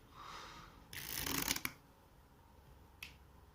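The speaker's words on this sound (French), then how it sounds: "Je vais remélanger l'ensemble du paquet." A deck of Puerto Rico board game cards is riffled in one quick, crisp burst lasting under a second, then quiet apart from a single faint tap afterward.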